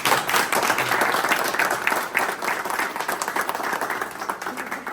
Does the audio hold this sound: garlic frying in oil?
no